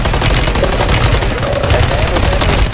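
Sustained rapid gunfire in a shooter video game, loud and continuous bursts with reload clatter, while players talk over the shooting.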